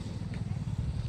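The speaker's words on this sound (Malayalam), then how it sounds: "പഴയ കാലത്തെ ട്രാക്ടർ കേട്ടോ." An old tractor engine idles nearby, a steady low thudding chug with even rapid beats and no voices.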